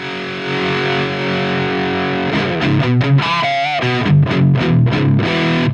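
A heavily distorted electric guitar plays through a modified Marshall JCM800 on the high input with presence maxed, loud and close: a sustained chord, then chugging palm-muted riffs and a bent note.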